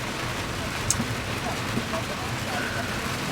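Heavy rain pours down on a car during a morning drive to the gym under a severe thunderstorm warning, a dense, steady drumming wash with no break from start to finish.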